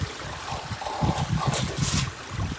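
Water splashes and gurgles steadily down a backyard pond waterfall fed by an Oase 2,400 gallon per hour waterfall pump, a close, continuous burbling trickle with no voices.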